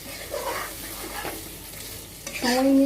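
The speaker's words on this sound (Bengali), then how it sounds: "আমরা এখন কলিজিটা খুব ভালো করে কষাবো সময় নিয়ে" Liver is stir-fried in a pan, giving a few seconds of close sizzling with scraping stirring strokes and a brief clatter of utensil against the pan at the end.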